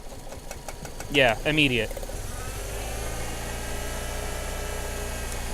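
A Saturn S-Series engine with a dead cylinder idles with a steady, slightly uneven low rumble and faint knocking, continuing alone after a brief spoken phrase near the start.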